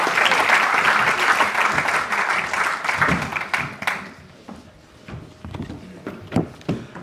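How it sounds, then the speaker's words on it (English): A large audience applauds at The Pitch 2024 grand final. The dense, loud applause swells for about four seconds, then thins into scattered claps and fades. "Can you give them all a round of applause, please?"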